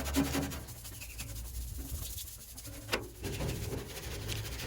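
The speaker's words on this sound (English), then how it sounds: "Then you can go ahead and start just scrubbing it down." A small brush scrubs the dirty exterior of an A/C unit, producing a close, continuous rough rubbing that rises and falls in intensity with a brief sharper scrape.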